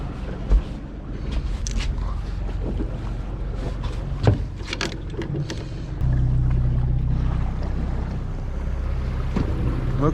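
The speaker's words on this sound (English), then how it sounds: "Looks like the boats are making their way out here." Fishing boats motoring out on open water during a coho salmon trip, a steady low engine drone under wind buffeting the microphone, growing louder and fuller partway through as a boat passes closer.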